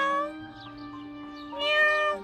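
A cat meows twice, a long drawn-out call followed by a louder, higher one, close and clear with little background noise.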